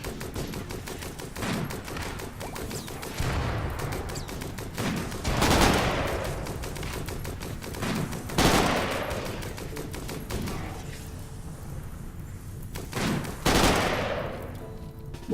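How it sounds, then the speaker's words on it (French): Rapid bursts of gunfire from incendiary cannons in the video game Rimworld, dense repeated volleys with a few louder blasts, continuous throughout. "Ah oui, ils ont tous les deux des canons incendiaires."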